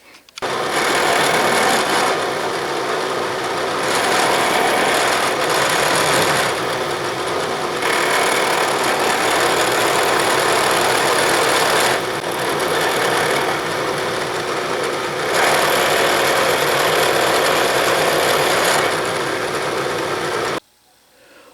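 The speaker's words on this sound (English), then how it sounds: "tighten the vise, and I'm ready to mill" Bridgeport milling machine cutting a metal part held in a vise: steady, loud motor whine and cutter chatter running continuously for about twenty seconds, with slight shifts in pitch and load before it cuts off.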